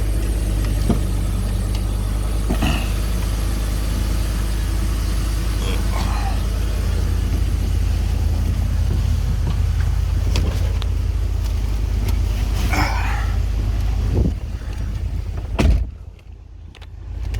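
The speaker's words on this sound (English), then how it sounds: "This one's a 5-liter V8." A 2013 Ford F-150 with a 5.0L V8 idles after a cold start, a steady low rumble running under scattered interior clicks and rustling before it drops away near the end.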